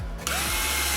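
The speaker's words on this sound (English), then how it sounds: "I am going to go ahead and pre-drill a couple holes." A power drill whirs steadily, its motor pitch climbing as it pre-drills holes into old wood, close and loud with no talking.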